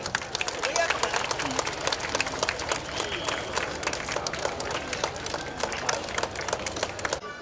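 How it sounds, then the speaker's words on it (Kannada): Loud, sustained applause and clapping rise from a crowd at a Mysuru flag-off for a women's safety squad vehicle rally and walkathon, dense and continuous with crowd voices mixed in. "ಜೋರಾದ ಚಪ್ಪಾಳೆ"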